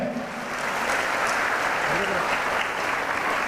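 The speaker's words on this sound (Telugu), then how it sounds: "ఒక్కసారి గట్టిగా చప్పట్లు కొట్టాలి" An audience of DWCRA women claps loudly and steadily at a cheque distribution event with an MLA, dense continuous applause from start to end with voices mixed in.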